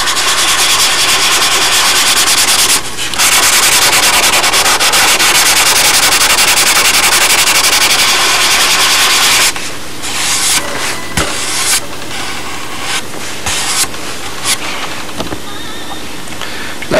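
Hand sanding a model Spitfire with 320-grit paper on a block, a loud continuous rasping scrub that pauses briefly, then turns into shorter, intermittent strokes.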